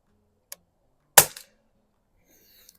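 A single sharp crack rings out as a Crosman Vapor Max air rifle fires a shot at a splatter-burst target, with a faint click before it and quiet afterward.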